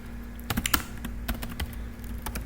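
Close clatter of a computer keyboard as Python code is typed, with quick uneven keystrokes in bursts over a faint steady hum.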